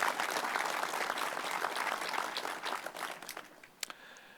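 A crowd applauds at the grand opening of the Muskoka Lumber Community Centre, dense steady clapping that thins and fades over a few seconds, ending in a few last scattered claps.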